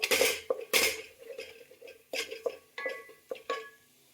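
A spoon stirs garam masala into oil in a pan for mutton biryani, giving repeated metallic scrapes and clinks in an irregular rhythm, close and fairly clear.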